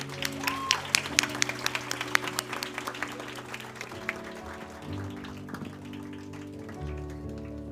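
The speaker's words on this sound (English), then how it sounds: "Guys, we are missing round of applause." Scattered applause from an audience at a medical college white coat induction ceremony, fairly quiet and thin, with sparse individual claps over a low hum of music or room tone.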